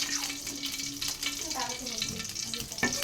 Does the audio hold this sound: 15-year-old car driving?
no